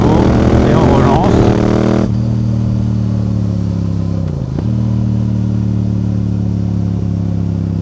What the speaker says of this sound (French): Un peu plus la moto et on relance.